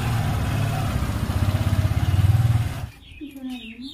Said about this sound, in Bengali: এখন গাড়ি স্টার্ট দিচ্ছি।